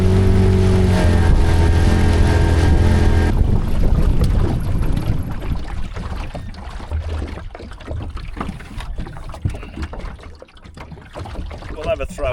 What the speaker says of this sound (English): I've got to paddle against the wind.